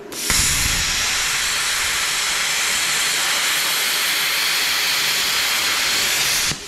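Dirt-covered metal leg struts on a leaking air compressor are cut through, making a loud, continuous hissing roar that starts abruptly and runs unbroken for about six seconds before stopping, with no voices.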